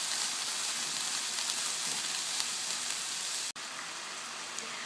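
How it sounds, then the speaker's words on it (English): A steady, even sizzle of onion rings frying in hot oil in a pan fills the clip, with a brief break near the end before the hiss resumes. "we're going to fry them until they're translucent."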